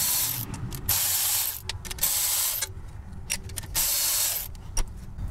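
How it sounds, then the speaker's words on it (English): A Milwaukee cordless ratchet with a short 10 mm socket zips bolts off a first-generation Toyota 4Runner solid front axle knuckle, a series of loud buzzing bursts broken by brief pauses and clicks, close up. "I'm gonna zip them out with my Milwaukee cordless ratchet with a short 10 millimeter socket."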